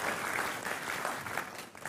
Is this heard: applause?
yes